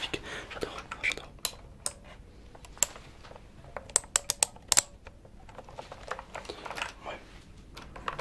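Clicky keystrokes on a plastic-keyed computer keyboard tapping in irregular bursts, moderately close, with a few sharper louder clacks and a brief spoken word.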